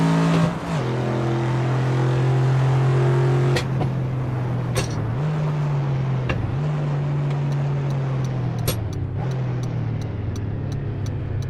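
A Ford Mustang engine in the racing video game Assetto Corsa drones loudly and steadily, its pitch dipping with occasional gear changes, with faint clicks in the background.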